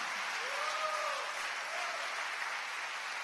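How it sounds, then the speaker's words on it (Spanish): A church congregation applauding together in a dense, even wash of clapping that holds steady, with a faint voice or tone rising briefly beneath it. "Démosle palmas al Señor por eso."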